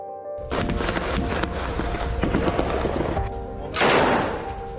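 Sustained gunfire erupts during an IDF raid on Hamas positions in Gaza: dense, crackling bursts loud and close, with a heavier blast-like surge near the end, no talk over it.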